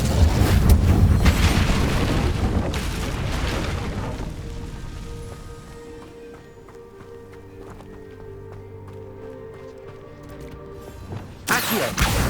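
An Incendio fire spell in Hogwarts Legacy bursts with a loud, roaring whoosh of flame that rumbles and slowly dies away, followed by a quieter ambient stretch and another sharp burst at the end.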